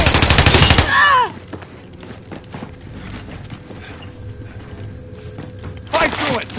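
Video game gunfire erupts in a loud, dense burst, drops to a quieter stretch of scattered sounds, then returns as a second burst near the end.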